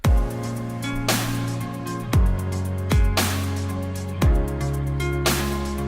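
A loud electronic drum beat with booming kick hits and a sustained deep bass line, repeating in a steady pattern with no voices.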